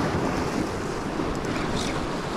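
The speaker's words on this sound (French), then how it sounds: "Maintenant faut que j'attende la vague." Sea waves wash and surge around a fishing boat off northern Norway, a broad, continuous roar mixed with gusty wind buffeting the microphone.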